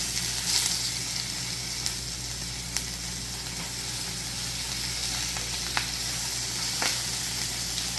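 Pork belly sizzles and crackles steadily in a hot pan outdoors after a mountain hike, a continuous frying hiss with occasional sharper pops and spatters, no talking over it.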